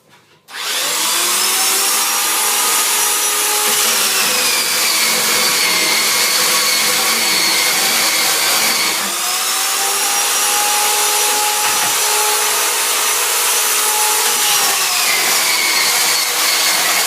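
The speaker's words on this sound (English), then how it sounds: "we do a final finish with the sanding" A loud power sander sanding a ski base runs continuously with a steady high whine, its pitch dipping and shifting as it presses and moves across the surface.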